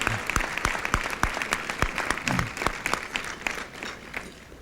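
Audience applause at a political policy gathering of the American Israel Public Affairs Committee, a dense patter of many hands clapping steadily, fairly close and full, with a faint voice briefly mixed in.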